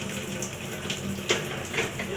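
Water runs from a tap in a continuous wash with small splashy bursts, heard at moderate level beneath faint background voices.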